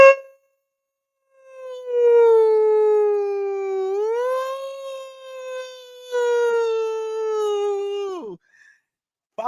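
A siren wails loud and alone, with one sustained tone that rises partway through, holds steady, then falls away sharply at the end.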